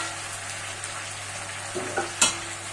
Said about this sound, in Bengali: আরেকটু আমি ভাজা ভাজা করবো, যাতে আলু আর ডাঁটাটা আরেকটু সেদ্ধ হয়ে যায়।